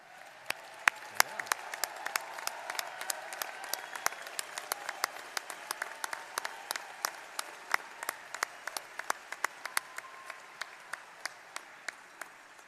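Graduation commencement audience applauds master's degree recipients, a sparse scattered crowd clapping with sharp individual claps standing out clearly over a soft background patter, steady throughout.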